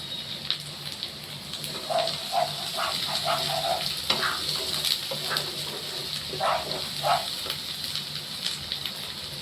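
Ghee sizzling in a cooking pan, a steady crackling fry with scattered pops and stirring noises, close and fairly loud, without talk.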